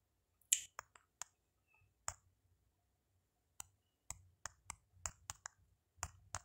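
Short crisp keyboard key clicks, scattered singly and in quick clusters, quiet and close, with gaps of silence between bursts, as someone types a Bible reference into a search.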